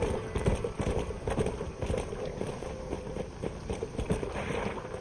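Horse hooves clip-clop in Red Dead Redemption, a steady busy trotting rhythm over rushing wind and outdoor ambience, fairly close and continuous throughout.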